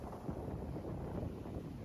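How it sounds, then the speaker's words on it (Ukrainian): Strong, gusty wind blows outdoors and buffets the microphone with a steady low rumble for the whole stretch, and no voices are heard. "бо вітер дує прям люто"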